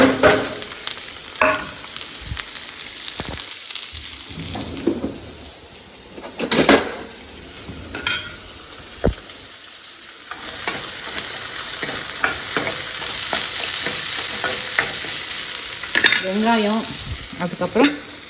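Mustard seeds and chana dal crackle and sizzle steadily in hot oil for a samosa filling, with occasional stirring scrapes and clinks throughout, close and fairly loud.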